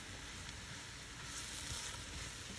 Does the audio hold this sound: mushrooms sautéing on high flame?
yes